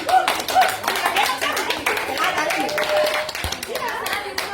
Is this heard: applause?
yes